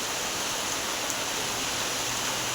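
Heavy rain pours down in a dense, steady hiss with no pauses and no voices.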